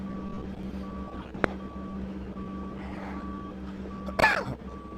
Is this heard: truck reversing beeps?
yes